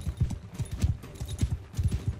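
Horse hooves gallop in Mount and Blade II: Bannerlord, a quick, steady clip-clop rhythm of thudding hoofbeats, moderately quiet and with no talk.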